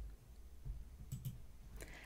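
A few soft computer mouse clicks, scattered and isolated, sit at a low level over faint room hiss with no talking.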